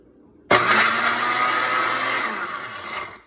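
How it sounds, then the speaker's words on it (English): A blender pulsing Oreo cookies into powder whirs loudly to life and runs steadily for a few seconds, its motor winding down slightly near the end. "put 15 Oreos into your blender or food processor and pulse it until it's a nice powder."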